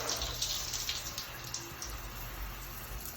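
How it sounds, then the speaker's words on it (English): Home shower running on cold water only, a steady close hiss of spray falling into the tub as a continuous rushing wash with no talking. "turn on the shower to just cold water"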